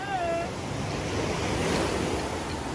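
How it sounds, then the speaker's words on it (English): Ocean waves wash continuously onto a beach with a steady broadband roar, moderately loud, with light wind noise and no talking. "She's afraid of the waves."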